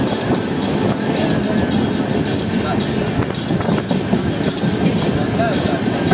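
Shaktipunj Express train rolling slowly through Andal Junction, a steady dense rumble of wheels and carriages with faint clatter, close and continuous, with a voice speaking over it.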